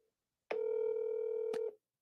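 Phone call being placed, a single steady electronic ringback tone lasting about a second, with a click partway through and a brief fade at the end, heard alone.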